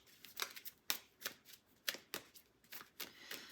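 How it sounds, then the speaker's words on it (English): Tarot cards are shuffled and drawn in a series of soft, riffling flutters and light slaps, close but quiet, in irregular bursts without talking. "I'm going to get a couple clarifier cards."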